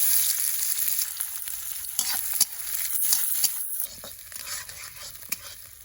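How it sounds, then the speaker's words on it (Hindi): Sliced onions sizzle and fry steadily in hot oil in a pan for a rustic village-style dish, with a continuous bright crackle and a few soft stirring scrapes, close up and with no talk. "बर्तन में पियाज दे देवा"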